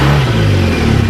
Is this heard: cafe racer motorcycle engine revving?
yes